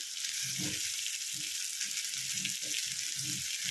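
Marinated chicken, seasoned with salt, pepper, ginger and garlic, sizzling in a pot for chicken pulao: a steady, close, bright frying hiss throughout, with soft low thuds of stirring underneath.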